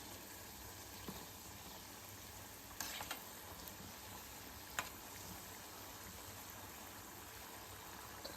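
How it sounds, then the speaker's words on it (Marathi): Coconut-filled karanji pastries fry in hot oil with a steady, quiet sizzle, and a few soft knocks and scrapes sound as they are turned over. Nobody speaks. "करंजे आपल्याला अलटी पलटी करत राहायचे म्हणजे चारी बाजूने व्यवस्थित ते शिजल्या जातात"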